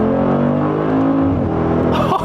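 Hard acceleration from a car: a close engine note climbs steadily through the gears, then ends in a brief burst of louder noise, with no voices.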